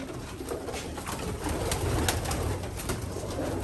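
Jan Aarden racing pigeons coo softly inside a loft, the low cooing half-buried in a steady wash of hiss and background noise.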